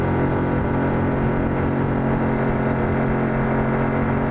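A Mercury/Tohatsu 6HP outboard motor drives a fully planed jon boat at about 8 mph, giving a loud, steady, continuous engine drone with no pauses and no talk over it.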